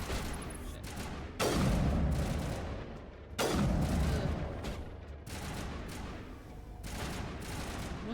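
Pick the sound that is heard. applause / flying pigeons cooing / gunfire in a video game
gunfire in a video game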